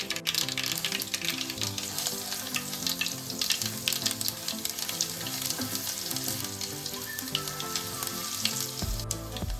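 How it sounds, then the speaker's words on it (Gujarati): Mustard seeds and cumin sizzle and crackle vigorously in hot oil for tempering, a busy popping hiss that holds steady throughout with no speech. "આપણું તેલ ગરમ થઈ ગયું છે તો આપણે વઘાર માટે રાઈ અડધી ચમચી આપણે જીરું એડ કરશું"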